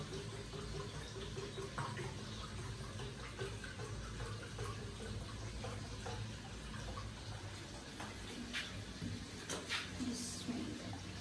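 Water pours and splashes steadily into a cooking pot of rice for biryani for about eleven seconds, a close, continuous running-water sound with faint background voices.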